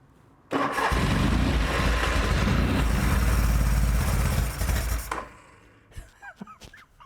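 A Norton motorcycle engine cranks loudly and continuously for about four and a half seconds without catching, then cuts off, followed by a few faint clicks and rattles nearby.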